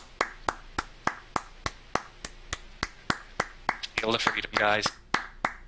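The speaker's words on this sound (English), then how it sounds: "It's actually kind of hard to hear you at times because of how loud I'm clapping." Loud, steady hand clapping in an even rhythm of roughly three claps per second, close and continuing throughout while a voice speaks over it near the end.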